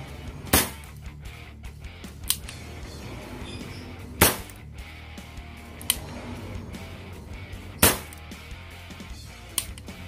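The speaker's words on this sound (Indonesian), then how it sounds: "Coba kita cek menggunakan tembakan single action." Three sharp, loud shots from an airgun revolver fired single action snap out at spaced intervals over a steady low background hum, with faint clicks in between.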